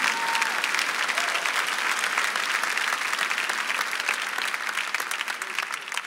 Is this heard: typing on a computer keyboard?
no